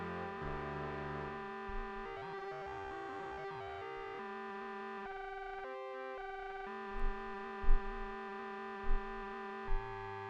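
An aliasing synthesizer patch in the Drambo app plays a buzzing, harsh tone with steady harmonic drones and shifting metallic overtones, joined by a few low thumping pulses near the end.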